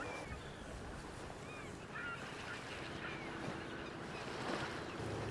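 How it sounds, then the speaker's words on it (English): A Zodiac inflatable boat runs across open water on a coastal rainforest safari, its engine a faint steady rumble under wind and splashing waves, with a few honking bird calls in the distance. "Going out on a Zodiac with Coastal Rainforest Safaris."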